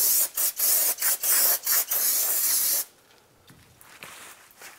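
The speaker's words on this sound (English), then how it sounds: "we're going to clean the outside of our rotor with brake clean" Aerosol brake cleaner sprayed onto the outside of a front brake rotor on a 1992-1996 Ford F-150, loud close hissing in about six short bursts followed by one longer blast, then quiet.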